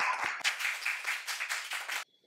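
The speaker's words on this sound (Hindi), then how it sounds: "तालियां" Applause at a public rally breaks out in a dense, crackling burst of clapping for about two seconds, then cuts off abruptly.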